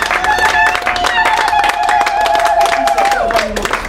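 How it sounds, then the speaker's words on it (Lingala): Applause from a church congregation greeting pastor Cyprien Monka, a rapid patter of many hands sustained throughout, partly masked by a voice and held musical tones. "qui je vous applaudir très très fort."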